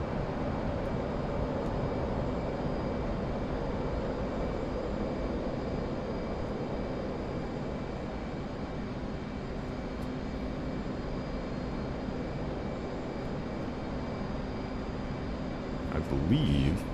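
Constant steady roar of an F/A-18C jet in flight in DCS World, a dense unbroken engine drone at even loudness with a small burst of extra noise near the end.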